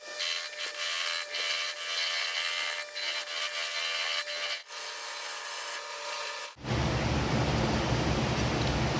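An oak finial being roughed out on a wood lathe: a continuous, fairly loud scraping hiss of the tool cutting spinning wood, with short breaks, then a sudden shift to a deeper, heavier rumble near the end.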